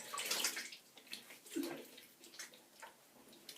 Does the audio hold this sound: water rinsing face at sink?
yes